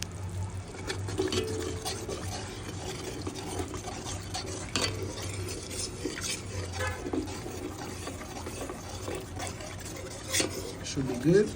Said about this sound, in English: we're going to go in with some coconut milk as usual